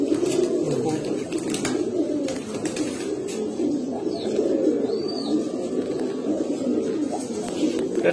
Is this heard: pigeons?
yes